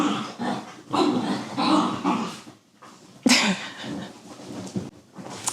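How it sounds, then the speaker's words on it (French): Close, loud growling and snarling from dogs scuffling, in rough bursts with brief pauses, a sharp rise near the middle, no human voices. "Je vous laisse un extrait des chiens qui se fight"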